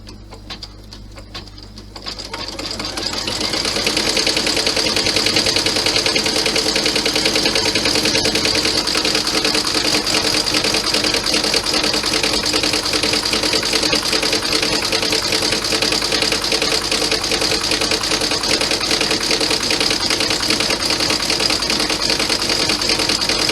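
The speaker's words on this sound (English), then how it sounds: "Lower your needle and stitch the satin stitch." An embroidery sewing machine stitches a satin stitch on a clutch design, starting with a few faint clicks, then running fast and steady in a loud, continuous mechanical buzz with rapid needle ticking, close and uninterrupted.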